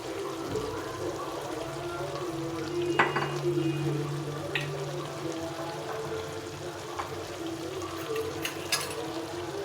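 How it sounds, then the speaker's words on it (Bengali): A Bengali winter vegetable chochchori with onion stalks is stirred in a pan, a soft ongoing sizzle broken by a few sharp spatula scrapes and knocks, close by, with no talk. "একটু নেড়ে চেড়ে দিতে হবে"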